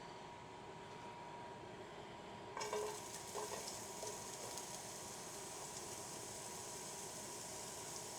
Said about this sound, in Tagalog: Gisa ko muna yung mga vegetable.